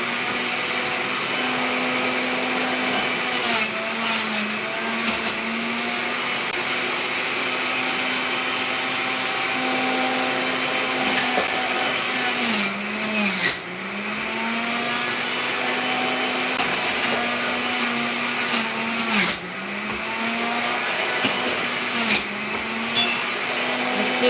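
Juicer grinding celery stalks, a steady motor whine with a low hum that dips briefly each time a stalk is pushed in. The machine runs continuously and loudly, with no talking.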